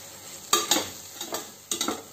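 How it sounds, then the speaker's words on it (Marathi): Spices for shrimp biryani being sautéed in a pan, a soft sizzle under several sharp scrapes and clinks of a spoon stirring, close and moderate in level. "हे बघा व्यवस्थित मी सर्व मसाले परतून घेतलेले आहेत"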